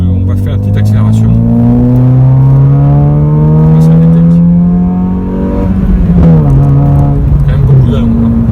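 A Honda Civic 8 Type S with a 1.8 i-VTEC engine accelerates hard, its loud engine note climbing steadily in pitch, dropping briefly at a gear change, then rising again close up.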